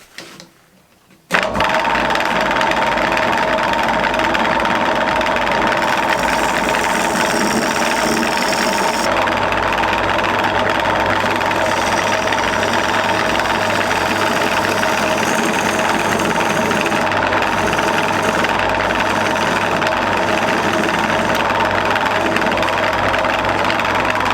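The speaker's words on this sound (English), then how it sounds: "let's see if we can start cutting some of this timber out" A wood-turning lathe runs steadily while cutting timber for a bowl: a loud, continuous motor drone with a mechanical hum that holds unbroken through the whole stretch after it starts.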